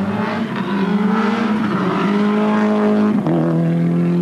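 A rally car engine roars close by as it starts off at the Rallye de Sombreffe, holding a high strained note then rising as it pulls away, loud and steady throughout.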